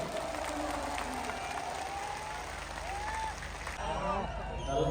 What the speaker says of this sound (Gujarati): એક વાર જોરદાર તાળીઓ પડવી જોઈએ.